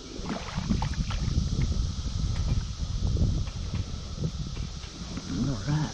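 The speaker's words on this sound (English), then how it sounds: "We're fighting the wind" Wind buffeting the microphone while kayak fishing on a backwater at a local park, a steady low rumbling rush throughout with faint water and rustling sounds underneath.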